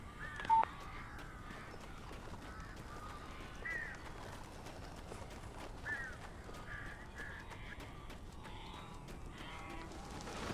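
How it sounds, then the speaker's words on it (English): Crows cawing in the Alan Wake Remastered video game, scattered harsh calls at moderate distance over a low murky ambient background, faint overall with no one talking. "These birds are weird."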